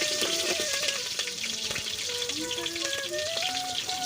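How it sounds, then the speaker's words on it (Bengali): Slit green chillies fry in hot oil in a pot for dum chicken curry, giving a steady, dense crackling sizzle with occasional faint clinks, close and continuous for the whole stretch. "এবার তেলটা গরম হলে এর মধ্যে কয়েকটা কাঁচা লঙ্কা চেরা দিয়ে দিলাম"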